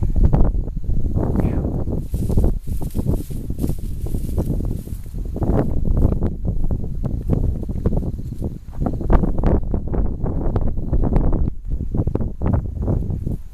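Strong, cold gusting wind on Mt Rogers in the Grayson Highlands roars and buffets against the microphone in continuous low rumbling bursts, rising and falling throughout.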